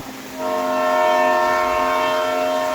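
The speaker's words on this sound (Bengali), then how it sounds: "ট্রেন এলো।" A train pulls into a station, announced by a loud, sustained horn blast that begins about half a second in and holds steady to the end, alone without talk.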